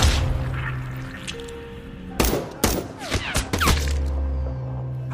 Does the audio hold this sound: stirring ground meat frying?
no